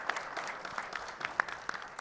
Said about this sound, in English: Claps of joy, ladies and gentlemen